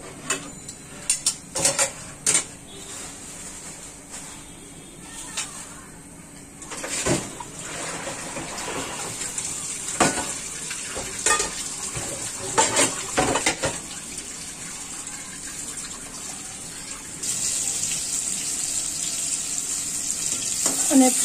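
Plates and bowls are washed at a kitchen sink: running tap water with intermittent clinks and clatters of dishware, close by, some quiet speech mixed in.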